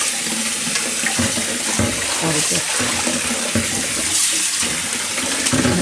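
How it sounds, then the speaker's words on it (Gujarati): Fenugreek leaves being washed in a basin of water, with steady splashing and sloshing throughout and someone speaking briefly over the sound. "તો આને આપણે પાણીમાં આખી ધોઈ નાખવાની છે આ રીતે."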